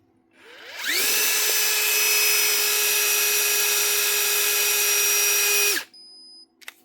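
A Metabo SSD 18 LTX 200 BL cordless impact driver, in for repair, whirs steadily at high speed for about five seconds, a loud continuous motor whine with a sharp start and stop, then a couple of faint clicks.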